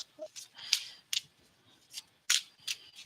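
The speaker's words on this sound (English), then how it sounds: "Let me pull some cards for you, Lisa" Tarot cards being shuffled and pulled from a deck during a reading, heard as a series of crisp, close papery snaps and riffles in irregular bursts, with no talking.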